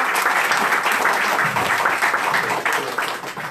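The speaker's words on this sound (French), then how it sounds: "Et applaudissez encore pour elle, s'il vous plaît." A crowd applauds a graduate at a hairdressing school's fashion show and diploma ceremony, with close, vigorous clapping that holds steady and then begins to thin out toward the end.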